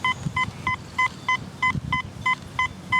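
Metal detector signal tones sounding over a deep target in a yard, a steady series of about ten short, evenly spaced beeps at moderate level, with wind rumble underneath.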